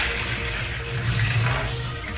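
A kitchen tap runs steadily while dishes are washed with a sponge and dishwashing liquid, a continuous close rushing of water with no break.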